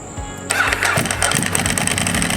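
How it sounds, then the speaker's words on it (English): A Ducati 1098 motorcycle engine with an open clutch cover kicks into life after a brief quiet moment, then roars loudly and steadily with a rough, throaty rumble. "let that engine roar"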